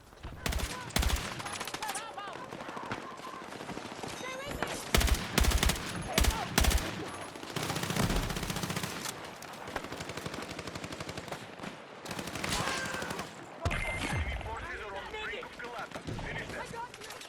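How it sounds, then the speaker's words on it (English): Bursts of Battlefield 6 multiplayer gunfire, a sustained exchange of automatic weapon fire with loud close shots and rapid rattling volleys, fairly continuous throughout with some distant fire and a voice under the shooting. "There, once again, I'm shooting off into the distance."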